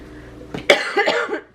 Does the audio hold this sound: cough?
yes